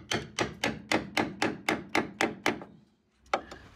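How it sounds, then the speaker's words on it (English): A series of sharp metallic hammer blows on a chisel driven into a Mercedes R107 inner wheel arch panel, about ten evenly spaced strikes, then a pause and one more hit, close and distinct. "we're just going to see if we can hammer that panel apart"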